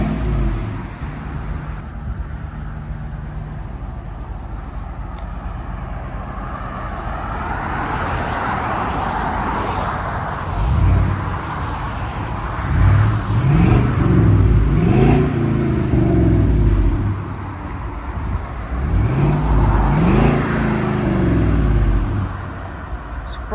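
Exhaust of a Chevy Suburban 5.3L V8 with true dual exhaust and Flowmaster 40 series mufflers, a steady, fairly quiet cruising drone that swells into deeper rumbling surges on two throttle pushes, with no voices.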